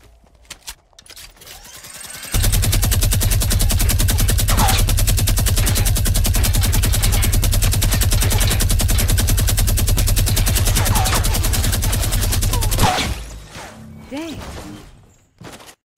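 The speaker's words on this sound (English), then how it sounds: "I really can't shoot with the minigun." A video game minigun fires one long, loud, rapid continuous burst lasting about ten seconds, sharp metallic shots in a steady stream, with quieter game sounds before and after and a player's voice nearby.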